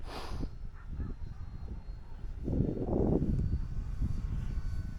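American Champion Decathlon light aircraft engine droning steadily through a takeoff run, the propeller roar swelling louder midway, with no voices present.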